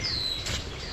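At Magee Marsh, a bird gives a brief, clear whistled call from the forest canopy, heard over a soft natural background.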